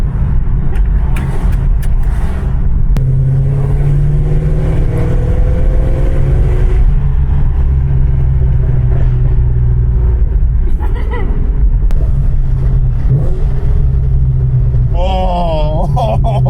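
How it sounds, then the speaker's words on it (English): An LS-engined car runs under partial throttle, a loud steady low rumble that rises slightly in pitch partway through, with people talking over it at times. "Sounds really tame under partial throttle."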